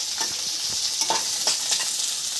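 Eggplant pieces frying lightly in a pan for a Bengali cauliflower stem curry, a loud continuous sizzle with a few soft stirring scrapes, close and without speech.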